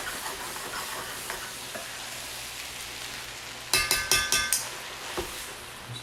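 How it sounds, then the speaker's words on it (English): Fried rice sears in a hot pan with a steady, soft sizzle, then a short run of loud spatula scrapes and clinks near the middle before the frying settles back down. "Let this continue to sear just a little bit more on the bottom"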